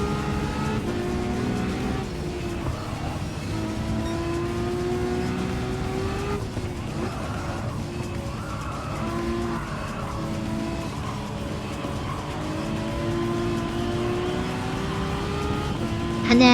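A LaFerrari race car drives in Gran Turismo 7. Its engine whines and revs up and down through the gears, and tires squeal and skid in repeated bursts. The sound stays steady and fairly close throughout, with no voices.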